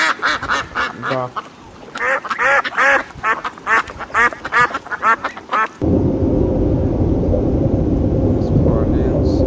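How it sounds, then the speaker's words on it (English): A duck quacks in a rapid series of loud, nasal calls, close and clear for several seconds, then gives way to a dense rushing background noise. "duck"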